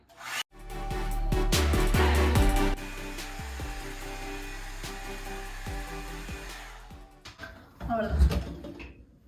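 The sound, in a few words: Revlon hair dryer styling hair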